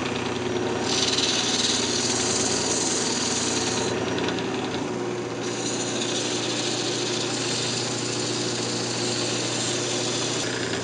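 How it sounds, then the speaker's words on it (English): Wood lathe spinning a redwood Christmas ornament at speed, a steady continuous motor whine and hum with a brief dip in the upper hiss midway, running alone without talk. "I went ahead and turned the lathe speed back up"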